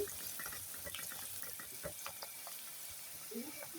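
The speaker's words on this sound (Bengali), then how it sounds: "রসুন পেঁয়াজ নাড়াচাড়া করা হচ্ছে" Garlic and onion fry in a pan with a soft, continuous sizzle, while a spoon stirs them in scattered light scrapes and ticks, all quiet and close.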